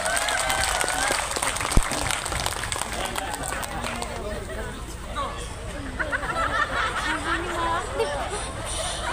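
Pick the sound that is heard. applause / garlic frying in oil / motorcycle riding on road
applause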